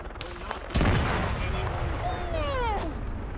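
A single sharp gunshot crack in a video game roleplay, followed by a lingering rumble, with a voice talking around it.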